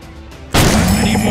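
Gunfire in a commando shooting game: after a quiet lead-in, a sudden loud burst of shots kicks in and carries on as a continuous close, harsh volley.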